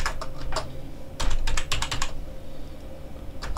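Rapid typing of code on a computer keyboard: a steady patter of close key clicks in uneven bursts, with a few louder clustered strokes and no talking.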